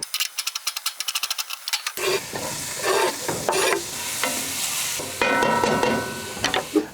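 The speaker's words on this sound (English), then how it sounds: "We'll just get some onions cooked up and put in there" Onions frying in a hot pan, a crackling sizzle with stirring and rattling of the utensil against the pan, preceded by a quick series of sharp ticks, all close and with no talking.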